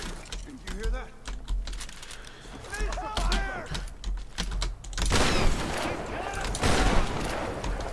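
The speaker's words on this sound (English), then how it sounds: "I can't headshot him with the shotgun" Shotgun fire in the 2013 Tomb Raider game, several sharp blasts mixed with clicking and a loud stretch of shooting toward the end, with a player talking throughout.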